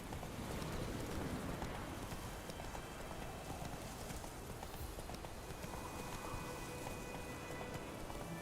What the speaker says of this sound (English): Let it rain.